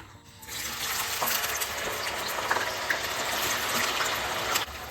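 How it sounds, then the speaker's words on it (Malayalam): Water splashing and sloshing in a kitchen vessel as cut raw banana pieces for sharkara varatti are washed in changes of water and drained, a steady close broadband rush with small splashes throughout. "ഒരു മൂന്ന് തവണ വേറെ വെള്ളത്തിൽ കഴുകി ഊറ്റി വെക്കണം"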